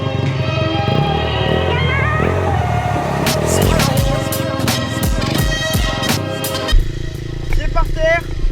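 A motorcycle engine revs and roars loudly during a wheelie, its pitch rising and shifting as the throttle works, with someone talking over it throughout.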